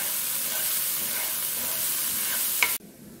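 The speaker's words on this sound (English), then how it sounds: "Saute the onions, ginger, garlic and chilies." Onions, ginger, garlic and chilies sautéing in a pan: a steady, close frying sizzle with stirring that runs evenly, then stops abruptly near the end.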